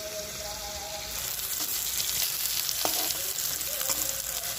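Fresh rohu fish frying in oil in a pan, a steady close sizzle with faint crackles and a few utensil clicks, no speech.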